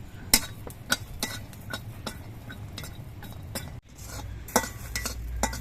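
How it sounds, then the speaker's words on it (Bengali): Peeled garlic cloves frying in a pan, with a soft sizzle running under repeated sharp scrapes and clinks of a spatula against the metal, close up, with a brief pause partway through. "এই রসুনের কোয়াগুলো আমি ভেজে নিচ্ছি"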